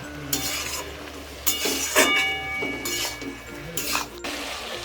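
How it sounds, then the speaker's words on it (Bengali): Malabar spinach with turmeric stirred in a pan on a village-style stove, with intermittent scraping and clattering of a utensil against the pan over a low rumbling background and a faint sizzle. "এভাবে 1 মিনিটের মতো নাড়িয়ে চাড়িয়ে মিশিয়ে নিচ্ছে"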